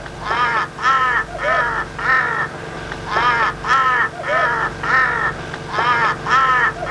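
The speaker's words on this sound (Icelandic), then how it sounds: "Krákan hér allsráðandi og hefur í raun mikilvægt hlutverk í umhverfisvernd." Crows near a camp kitchen tent give loud, close caws in steady bursts of three or four harsh calls, repeating with short pauses.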